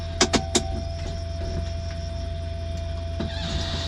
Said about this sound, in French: Attention, je vais démarrer.